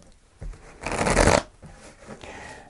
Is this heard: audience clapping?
no